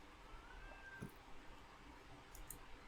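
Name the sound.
cat meowing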